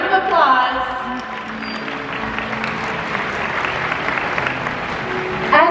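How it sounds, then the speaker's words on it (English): An audience in SeaWorld stands at an orca show clap in a broad, sustained wash of applause, loud and even, with a presenter's voice briefly audible at the start and end. "Let's give our audience members a round of applause."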